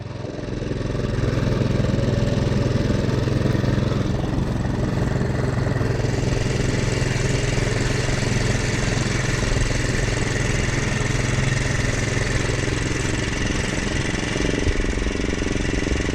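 Miniature 7 1/4 inch railway engines running and pushing rolling stock, a steady loud mechanical engine drone with a rough, chugging motor texture throughout, close by and without talking.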